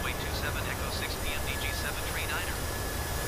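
A PMDG Boeing 737-900 in a flight simulator game roars steadily on reverse thrust, a constant broadband engine rush heard under a person talking.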